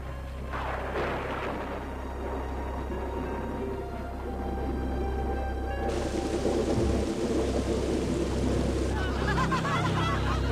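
Heavy rain hisses steadily under deep rumbling thunder, the downpour growing louder and denser partway through.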